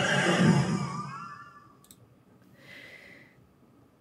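A person imitates a horse's neigh with a breathy, wavering voiced whinny that fades over about a second and a half, followed by a brief click and a soft hiss.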